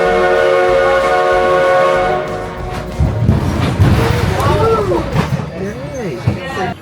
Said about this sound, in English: As the train pulls out of the station